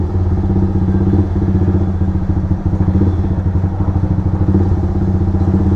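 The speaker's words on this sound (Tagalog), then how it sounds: "Oh, buo na yung tunog ng pipe niya." A Z200 Motorstar motorcycle converted from sportbike to classic build runs steadily nearby, its aftermarket exhaust pipe giving a full, even low pulsing throb with faint clatter throughout.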